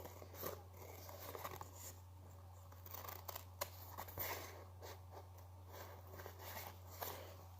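Scissors snip through paper for a Ramadan lantern craft, giving quiet, irregular cuts and crunches close by over a steady low hum, with no talking.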